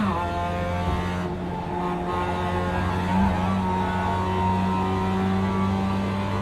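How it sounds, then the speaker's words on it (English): A race car engine warms up in the iRacing video game, holding a steady droning hum with a slight rise in pitch midway, continuous and close throughout. "Now we'll just get the car a little warmed up here, try to practice a few things."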